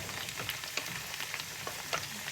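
Chanakhi stew with water simmers and sizzles in a pan, a steady close crackle with small pops scattered throughout.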